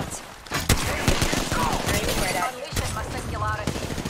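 Rapid bursts of gunfire from the Apex Legends video game, dense and repeated shots in quick volleys, with a person talking over the shooting.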